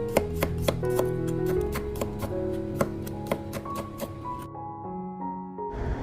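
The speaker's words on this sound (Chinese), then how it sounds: "将大蒜切成薄片" Garlic cloves sliced thinly with a kitchen knife on a cutting board make a rapid series of crisp chopping taps, close and alone, pausing briefly before a final burst.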